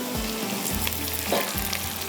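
Potatoes fry with onion in a pan, giving a steady soft sizzle, with a few stirring scrapes repeating at regular intervals.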